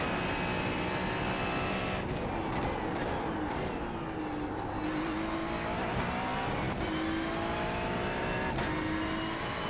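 A Ferrari 296 GT3 race car engine in iRacing drones loudly and continuously at Zolder, revving up and down through gear changes with rising and falling pitch sweeps and faint tire noise, close and without talk.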